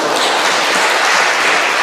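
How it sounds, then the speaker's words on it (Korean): A church congregation gives a big round of applause welcoming the pastor to the pulpit at a Sunday service, a dense, loud, steady wash of clapping with no talking. "목사님 나오실 때 한 큰 박수로 환영하겠습니다"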